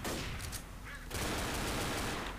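Rapid overlapping pistol shots ring out in a Left 4 Dead zombie fight, dense cracking gunfire packed tightly across a couple of seconds with a brief lull in the middle.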